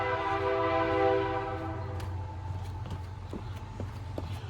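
A westbound freight train passes at speed near a rural crossing, its horn sounding at first as steady tones, then fading into a continuous rumble with repeated clacks of wheels over rail joints.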